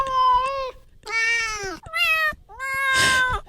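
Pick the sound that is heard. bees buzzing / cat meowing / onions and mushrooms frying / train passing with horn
cat meowing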